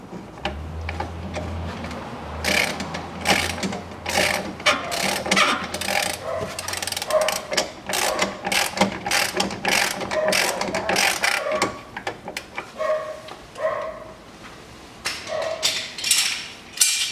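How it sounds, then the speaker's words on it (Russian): A ratchet tightening the nut on a corroded rear shock absorber of a Land Rover Defender, with rapid, close runs of clicking that continue almost without pause. "Надеваю штуку, надеваю шайбу и закручиваю гайку."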